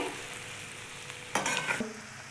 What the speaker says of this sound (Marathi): छान अशा आपल्या मासवड्या मसाल्यामध्ये मस्त परतत आहे